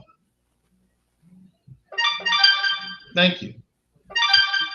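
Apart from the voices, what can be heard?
phone ringtone ringing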